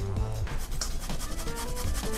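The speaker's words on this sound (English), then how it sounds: "all that's left is just to grate the potato." A raw potato is grated by hand, giving quick, rhythmic rasping strokes up close and fairly quiet, with no talk.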